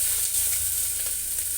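Panch phoron spices sizzle in hot oil inside a pressure cooker while cooking a potato and soybean curry, a steady, loud, bright hiss that is close and continuous with no talking.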